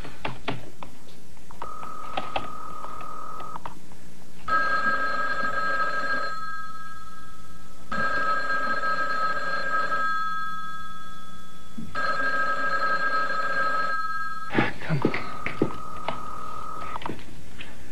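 A telephone at a camp office rings in repeated bursts with pauses between them, steady and moderately clear, with no one picking up and no talking.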